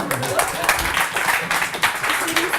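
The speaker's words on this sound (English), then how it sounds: "Everybody give a big round of applause for Brian" At a comedy and arts showcase, an audience gives a loud, close round of applause, dense clapping with some cheering voices mixed in, sustained for about two and a half seconds.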